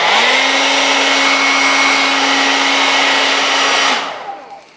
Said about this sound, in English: what I like to do is get a blow dryer